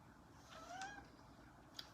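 A cat meows once, faint and somewhat distant, a short rising-falling cry over quiet room noise, followed by a tiny click near the end.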